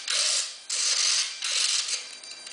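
A micro RC servo on a Sopwith Batboat model, converted with a Parkzone receiver, drives the aileron in a few short whirring bursts with brief pauses between, close and clear, with no talking.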